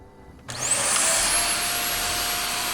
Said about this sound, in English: Today I'm just going to vacuum it.